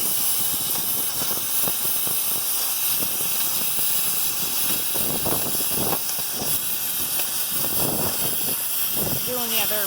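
Strong wind buffets outdoors beside an F750 truck during box removal, a loud continuous roaring hiss with gusty surges throughout, while a person talks over it.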